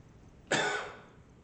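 A single sharp cough, close and fairly loud, bursting out of near silence and trailing off quickly.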